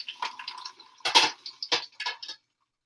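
Vegetables such as onion rinsed under running water in a home kitchen: close splashing and dripping with clinking bursts that come in short uneven clusters, then stop abruptly.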